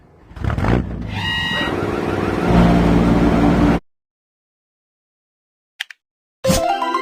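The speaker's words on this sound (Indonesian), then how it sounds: "Mesin penuai." A harvester machine engine runs loud and steady for almost four seconds, rising slightly in level with whirring, revving tones. Silence follows, broken by a brief click and then a fresh burst of mechanical noise near the end.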